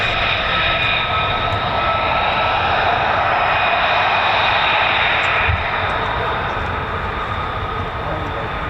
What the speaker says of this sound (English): Look at this, beautiful F-35A